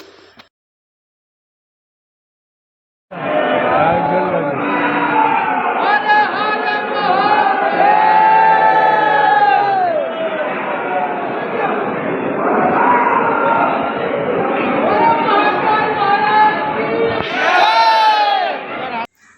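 A dense crowd of pilgrims at the Mahakal temple in Ujjain, a loud continuous roar of many voices and shouts that starts abruptly and fills the space without pause, with chants rising and falling throughout.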